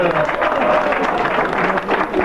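A crowd applauds a finisher at a mountain bike race prize-giving in Malausenne. The clapping is dense and continuous, mixed with crowd noise and talk close by.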